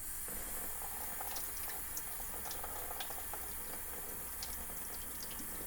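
Onion rinsed under a running kitchen tap, a steady faint hiss of water into a sink with small splashes and spatters scattered throughout.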